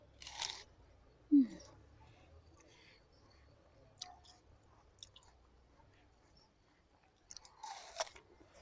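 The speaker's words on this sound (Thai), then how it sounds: "เหมือนกำลังกัดอ้อยอยู่เลยนะคะ" A crisp bite into a crunchy, juicy Thap Thim Chan rose apple, heard close up as a sharp crunch followed by quieter chewing over soft outdoor background noise.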